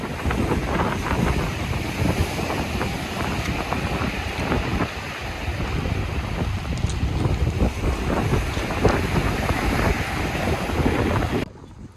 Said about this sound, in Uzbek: Batumida havo yomg'irli, shamol bo'lgani uchun mana bugun to'lqinlar juda ham avjiga chiqyapti.